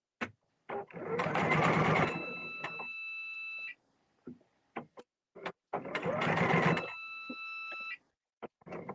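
A sewing machine stitches in two bursts of roughly a second each while a fabric wrap dress is sewn. Each burst ends in a steady electronic beep warning that the bobbin is almost empty, with a few soft clicks and handling taps between bursts.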